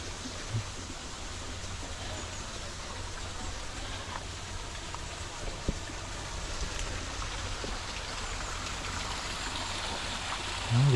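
A large garden water feature pours and splashes in a continuous broadband rush that stays steady throughout, with a faint low hum underneath.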